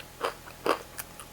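Crispy paruppu adai murukku, a South Indian lentil ribbon snack, is bitten and chewed up close: two sharp crunches followed by a couple of lighter crackling chews, quick and dry.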